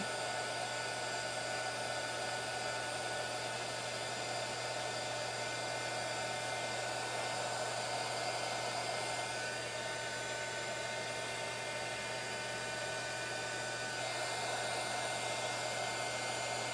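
A handheld heat tool blows steadily over watercolor paint to dry it. The even, airy whir with a low hum underneath runs unchanged for about seventeen seconds.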